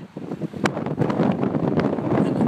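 Wind blows across the open ground at the Cardington airship hangars, buffeting the microphone with a rough, continuous roar that swells and gusts, loud and without any voices.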